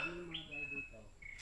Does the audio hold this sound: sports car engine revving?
no